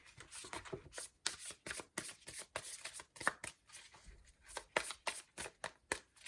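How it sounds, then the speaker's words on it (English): A deck of cards being shuffled during a tarot-style card reading, with quiet, rapid riffling bursts repeating in an irregular rhythm, close up and soft. "apparently I'm supposed to speak while I'm shuffling"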